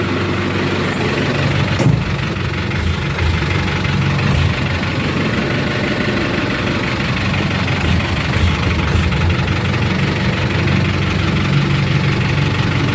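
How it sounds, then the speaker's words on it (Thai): A used six-wheel truck's diesel engine idling close by, a steady low rumble with a faint knocking rattle that holds even and loud throughout, with a single brief sharp click near the start. "เอาเดี๋ยวจะขับให้พี่น้องเบิ้ง"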